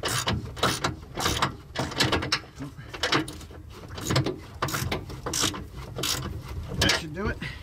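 Screws being loosened on a utility trailer, with rapid ratcheting clicks and metallic rattles in bursts close by, pausing briefly between turns.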